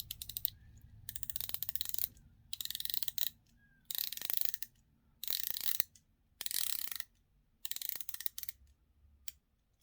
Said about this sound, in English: the bezel is a 120 click unidirectional bezel